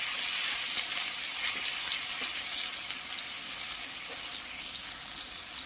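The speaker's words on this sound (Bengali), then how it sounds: "এবারে আমরা বড়াগুলোকে এইভাবে বসিয়ে দেবো কড়ার উপর" Sesame fritters frying in a little oil in a wok over a low gas flame, a dense, even hissing sizzle that holds steady and eases slightly toward the end, close and without talk.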